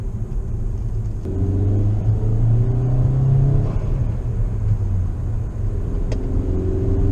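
Turbo spool from a 2017 Volkswagen Jetta TSI's stock engine, heard from inside as a steady low engine rumble with a faint rising whine, continuous and moderately loud.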